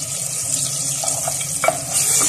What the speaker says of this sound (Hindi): ऑयल लेकर के हमने प्याज डाल दिए और साथ ही लहसुन अदरक की पेस्ट